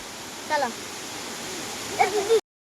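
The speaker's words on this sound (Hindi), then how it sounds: "देखो रेनबो वाटरफॉल" Rainbow waterfall at Daringbadi gives a steady, soft rushing wash of water, with brief voices breaking through twice over the continuous flow.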